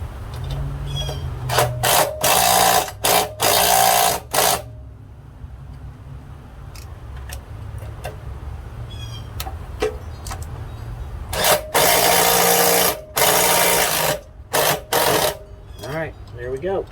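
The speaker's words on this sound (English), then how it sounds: "We'll go ahead and get those tightened up." New Allen bolts on the blade of a Craftsman chipper/shredder being tightened with a power tool, in several loud whirring bursts separated by quieter handling noise, close up, with someone talking between bursts.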